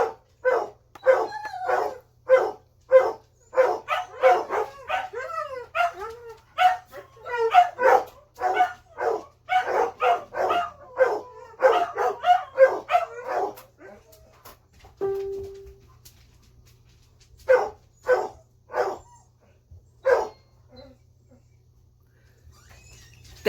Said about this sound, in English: I want you to hear him howl